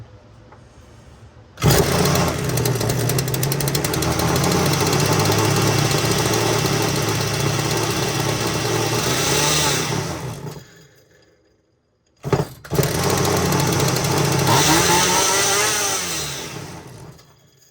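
A Poulan chainsaw engine under repair, running only with the choke on, starts with a sharp burst and roars steadily up close, stops abruptly for about two seconds, then fires up and runs loud again.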